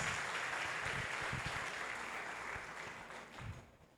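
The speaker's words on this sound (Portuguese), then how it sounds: "Aplauda o Senhor Jesus." Dense, sustained applause from a large church conference congregation, holding steady before gradually tapering off near the end.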